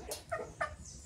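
A chicken gives two or three short, soft clucks in quick succession, faint and close, with nothing else around them.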